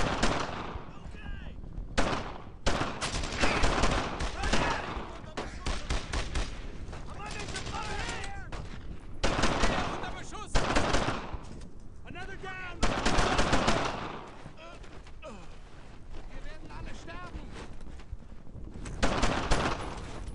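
Gunfire in the video game Brothers in Arms: Earned in Blood crackles in loud, repeated bursts of rapid shots separated by brief lulls, with machine-gun-like volleys dominating throughout.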